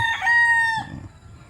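A young gamecock stag gives a single loud, close crow with a strained harmonic rise, tapering into low clucking and farmyard murmur, recorded among a yard of newly corded late-born stags.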